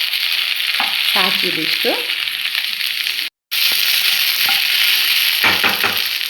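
Ladies finger (okra) sizzles in an oiled pan as a spoon stirs and scrapes it in short bursts, close and loud, with a soft voice speaking briefly.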